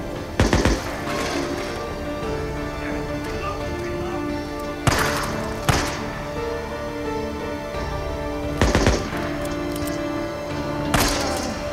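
Video-game gunfire in Days Gone, sharp loud shots arriving in small clusters spaced several seconds apart over a continuous background bed.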